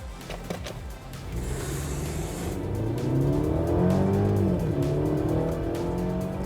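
A petrol Mercedes-Benz GLC accelerates hard from standstill to 100 on an empty road, engine note rising steadily through the gears, loud and close, with a brief tyre chirp at the start.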